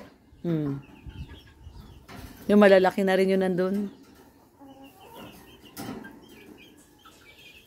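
Chickens on a farm, with several hens cluck in short bursts near and at a middle distance, while someone talks between and over the calls.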